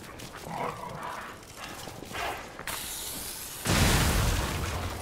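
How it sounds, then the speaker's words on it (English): A bomb goes off in the video game Lies of P amid clanking combat mechanisms, ending in a loud, sustained explosive roar that fills the last second and a half, no voices. "Oh no, that's a bomb, I think."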